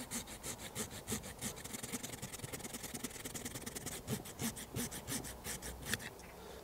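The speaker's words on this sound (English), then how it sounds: "So I'd rather cut across and then just cut again down, just to take off that nub there." A hand saw cuts through very hard hornbeam wood in quick, even back-and-forth strokes, close and rasping, with no talking.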